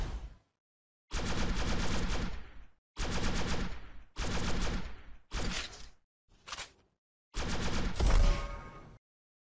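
Automatic gunfire from the ShellFire mobile MOBA FPS game, in several sustained bursts of rapid shots separated by brief silences, loud and close, with no talk.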